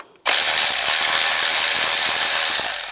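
A ratchet fitted with a 10mm socket loosens an ignition coil bolt on a 2007-18 Jeep Wrangler, a loud, close run of rapid clicking that starts abruptly after brief silence and keeps going without pause.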